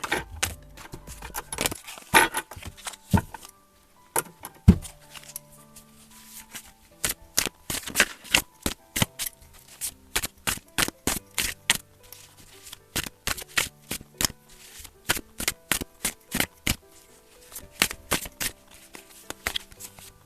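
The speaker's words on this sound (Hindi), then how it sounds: "ओरेकल में से हम 7 कार्ड लेंगे और टैरो में से 5 कार्ड।" Oracle and tarot cards drawn from their decks give a dense run of crisp, close flicks and slaps, quick and rhythmic in spells, with short pauses between bursts and no other sounds.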